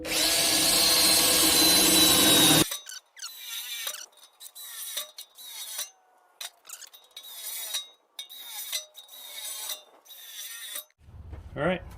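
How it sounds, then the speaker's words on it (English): A drill bores holes through the sheet metal of a Blackstone griddle, starting with a sustained loud grinding burst, then a series of shorter, broken bursts of cutting and catching with brief pauses between them. "Let's drill some holes."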